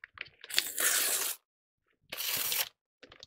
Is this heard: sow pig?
no